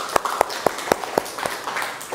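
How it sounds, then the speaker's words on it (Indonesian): Students in a vocational networking classroom clap for a classmate, a short burst of roughly a dozen sharp, fairly loud claps in quick rhythm that thins out toward the end. "Kita berikan tepuk tangan terlebih dahulu."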